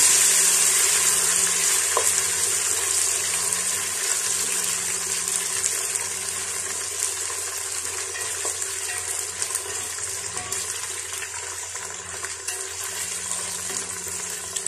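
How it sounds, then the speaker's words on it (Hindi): Raisins and onion fry in a pan for kabuli pulao, giving a steady, close, bright sizzling hiss that continues evenly throughout. "किशमिश को और प्याज को थोड़ी देर इधर भून लो।"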